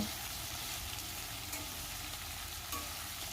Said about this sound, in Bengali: এগুলো খুব ভালো করে আমি নেড়েচেড়ে মিশিয়ে নেব।